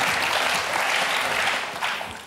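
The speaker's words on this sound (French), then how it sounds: "Sous applaudissements, parce qu'il faut l'encourager." A studio audience on a French talk show applauds loudly and densely, the clapping staying full before tapering slightly toward the end.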